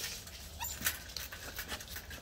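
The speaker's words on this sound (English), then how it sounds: "our little Blue Merle puppy here" A blue merle puppy whimpering softly with faint panting and small yips, close by over a steady background hiss, with no clear speech.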